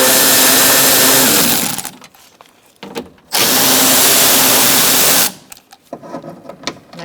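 A power drill with a 10mm socket removes door bolts on a 2002–2006 Honda CR-V, whirring loudly in two long bursts separated by short pauses and followed by faint clicks and clatter.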